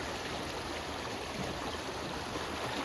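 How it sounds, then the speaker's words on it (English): A loud creek in winter rushes past a garden, giving a steady, full wash of flowing water that stays close and unbroken the whole time, with no one speaking. "Sorry for the loud noise of the creek"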